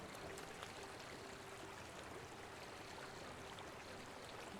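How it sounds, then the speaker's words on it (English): Steady flowing water in the Smalland survival game, a soft continuous stream-like wash that stays faint and even throughout, with no voices. "Sounded like the water bug was here. I guess that's just the water."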